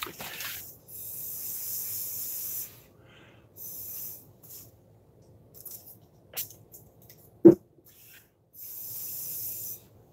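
Several short hissing spritzes from a spray bottle misting ink, spaced bursts with quiet gaps and a sharp knock in between, close by.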